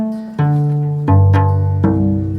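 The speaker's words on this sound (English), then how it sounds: "the cello has this really nice low tone" A cello sounds several sustained low bowed notes in sequence, warm and mellow, played alone and close.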